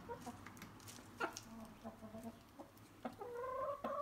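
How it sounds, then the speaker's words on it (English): Several chickens cluck and cackle nearby in short, irregular bursts, with a few louder squawks toward the end. "these chickens don't come in the house"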